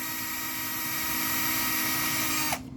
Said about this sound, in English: So this plastic, you can use any kind of drill, and you kind of drill like an angle like this.